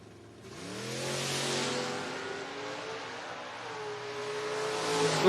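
A 1972 Camaro and a 1994 Mustang launching in a footbrake drag race, engines roaring up from idle into a sustained loud rising howl, steady and mid-distance with no talk.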